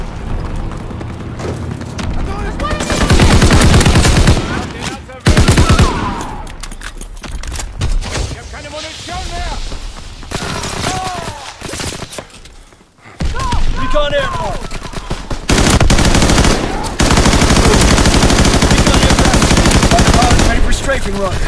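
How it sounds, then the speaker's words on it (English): Aircraft machine guns on a strafing run in Call of Duty WWII, loud bursts of rapid gunfire separated by short lulls, with game voice callouts heard between them. "Strafing run inbound."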